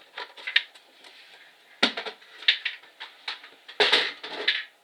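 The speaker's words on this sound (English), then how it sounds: "Sorry about the noise, it's me trying to get my scoreboard away." Clattering, scraping plastic knocks and rustles come in irregular bursts, nearby and moderately loud, as a plastic board is handled and stowed away.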